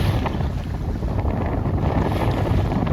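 A C420 dinghy sails slowly close-hauled during a race, with steady wind buffeting the microphone and a broad rush of water along the hull, continuous and fairly loud with no talk.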